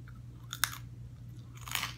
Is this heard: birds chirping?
no